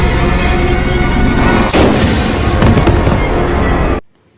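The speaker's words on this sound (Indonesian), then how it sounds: "si ibu pun harus tewas setelah ia memutuskan menembak dirinya sendiri" A loud, sharp gunshot from a film scene in which a woman shoots herself, cracking out over a dense, dramatic soundtrack, followed by a few fainter echoing snaps before the sound cuts off abruptly.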